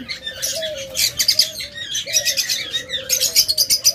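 A busy flock of cockatiels and budgerigars chirps and chatters loudly and continuously, close by, with overlapping shrill calls.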